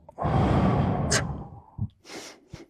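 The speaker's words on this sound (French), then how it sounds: "Alors, on va faire une respiration." A deep breath drawn in and let out as a long sigh during a guided breathing exercise, with a loud sustained exhale followed by a few short, softer breaths.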